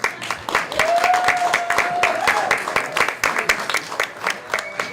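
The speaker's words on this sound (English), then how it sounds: "Let's give another round of applause." Applause from an audience, a dense patter of many hands clapping steadily throughout, with a voice and a brief whistle-like tone over it.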